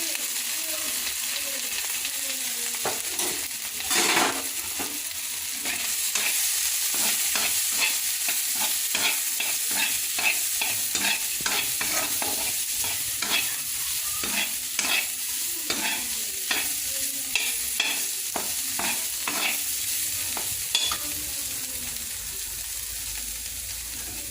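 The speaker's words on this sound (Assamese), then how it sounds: "আলুখিনি ইয়াতে আলুখিনি বহাই দিলোঁ তাৰপিছতে হালধি গুড়িখিনি দি দিলোঁ" Potatoes with turmeric frying and being stirred in a pan at home, a continuous sizzle broken by repeated scraping strokes of a spatula throughout, close and moderately loud.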